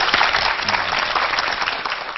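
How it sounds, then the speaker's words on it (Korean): Studio audience applause for a TV lecture on Korean history and science, a dense steady wash of many hands clapping at close range with no voices. "오늘 첫 강연 큰 박수로 청해 듣겠습니다"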